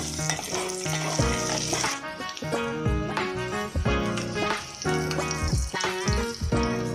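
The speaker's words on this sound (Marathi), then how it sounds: "आता हे छान परतून घेऊया आपण." Eggs coated in masala, chilli powder and turmeric sauté in a pan, giving a continuous sizzle and stirring noise that sits beneath loud, rhythmic background music.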